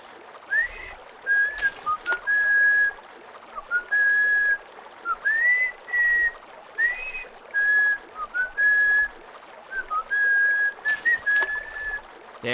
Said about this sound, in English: There's your whistling song from Deadly Premonition.